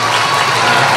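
Loud, continuous clapping from a crowd at the opening of a taekwondo competition in Thailand, a dense and even wash of claps.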